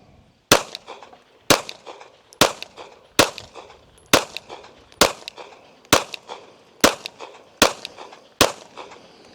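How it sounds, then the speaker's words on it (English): Ten shots from a Bear Creek Arsenal Grizzly fired at a target 10 yards away, sharp loud reports spaced evenly about a second apart, each with a short echoing tail, and no talk between them. "We're going to shoot a 10-shot group at the middle right target."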